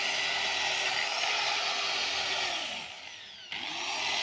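A power drill fitted with a circular brush whirs steadily against a carved wooden door while polishing, a continuous close high-pitched whine that dips briefly under load before picking back up.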